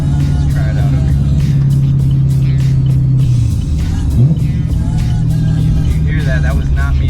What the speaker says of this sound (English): Active rev match on. So this will rev match for you when you downshift.